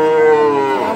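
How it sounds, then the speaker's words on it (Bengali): A Sahiwal bull calf at a busy cattle market gives one loud, close, drawn-out moo that lasts about a second and slowly falls in pitch. "সাহিওয়াল জাতের ষাঁড় বাছুর"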